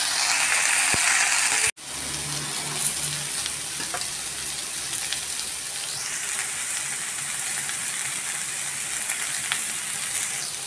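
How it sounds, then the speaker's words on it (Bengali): Vegetable curry sizzles loudly in a pan after a garlic and dried chilli tempering with only salt and turmeric, a sharp crackle breaking off briefly before a steady frying hiss resumes, with faint stirring. "শুধু রসুন আর শুকনো লঙ্কা ফোড়ন দিয়ে রান্নাটা করেছি"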